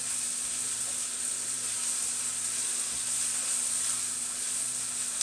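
Onions sizzle steadily in a pan while cooking for chicken marsala, a constant close frying hiss with no talking.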